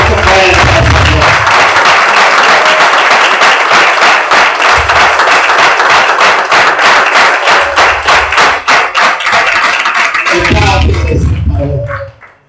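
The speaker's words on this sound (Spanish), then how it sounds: "Dame un aplauso fuerte al Señor." Strong applause from a church congregation during a sermon, loud sustained clapping mixed with rhythmic thumps that lasts most of the clip before tapering off at the end.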